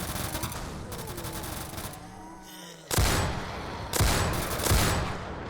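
Weapon fire in the Roblox game Zombie Uprising comes as dense, loud bursts of rapid gunshots that stop briefly, then resume in sharp volleys with heavy low impact.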